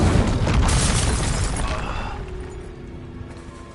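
A spell explosion in the Hogwarts Legacy video game bursts loud and wide, then fades into a lingering rumble over the following seconds.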